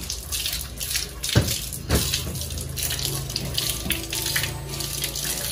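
Water runs steadily from a tap, a constant hiss and splash with a couple of dull knocks near the start.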